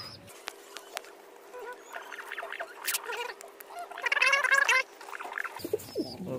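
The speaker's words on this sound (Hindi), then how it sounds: "काफी डर रहा है ये कबूतर।" Frightened fancy desi pigeons cooing and fluttering, likely inside a sack, with bursts of wing flapping and throaty calls rising toward the end over a steady background hum, close and moderately loud.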